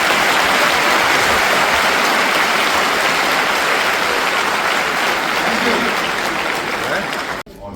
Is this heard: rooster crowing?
no